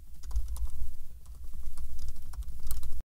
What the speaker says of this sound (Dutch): Dus ik begin gewoon met typen.